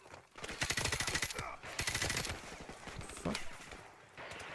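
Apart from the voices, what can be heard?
gunfire in video game Call of Duty Modern Warfare Remastered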